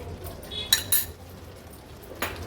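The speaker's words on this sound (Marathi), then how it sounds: "व्यवस्थित क्रीम देखील मिक्स करून घ्यायची आपल्याला" Fresh Amul cream being stirred into a thick malai seekh kebab gravy in a pan, with a few sharp clinks of a metal spoon against the pan over a quiet background.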